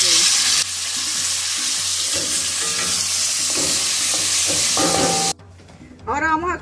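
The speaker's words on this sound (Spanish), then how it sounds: "Agregamos nuestro aceite para sofreír el pollo" Chicken frying in oil in a pot for chicken rice, a loud steady sizzle with stirring scrapes that cuts out near the end, followed by a brief voice.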